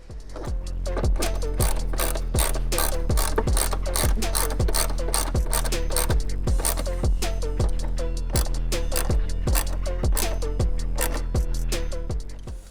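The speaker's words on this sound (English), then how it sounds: "I'd recommend tightening these with a hand ratchet instead of an electric ratchet" A hand ratchet tightens fender flare bolts on a 2024 Tacoma, a close, loud run of rapid, evenly spaced clicking strokes continuing steadily without talk.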